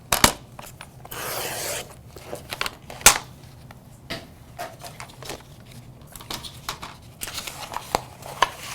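Scissors trimming cut adhesive vinyl off the roll for a glass etching stencil, a run of close snips and crisp crinkles of the sheet, uneven and sharp, with no talking.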